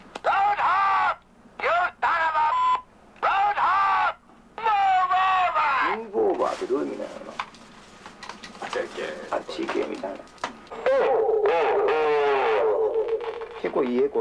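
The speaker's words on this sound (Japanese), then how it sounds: "いいエコーでしょ" A voice sounds through a tape echo machine, each phrase returning in quick, decaying repeats that smear into a warbling, wobbly tail.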